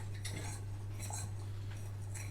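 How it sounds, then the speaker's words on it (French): A fork scrapes and clinks against a bowl while mixing eggs, sugar and flour, giving faint, quick metallic taps in short bursts over a low steady hum. "Et tu vas commencer à mélanger avec la fourchette."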